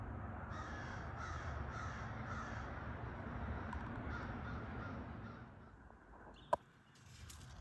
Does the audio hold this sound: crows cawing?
yes